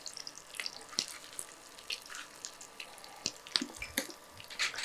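Cumin, fennel, curry leaves and dried red chillies frying in a pan on a low flame, with soft crackles and light stirring scrapes, fairly quiet and close.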